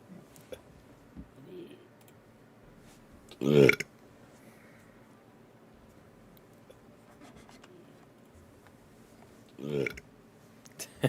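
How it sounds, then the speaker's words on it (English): Two short burps from a person, one early and one near the end, loud against near-silence with faint clicks and rustles between them. "I could hear myself burp."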